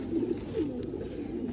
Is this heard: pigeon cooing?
yes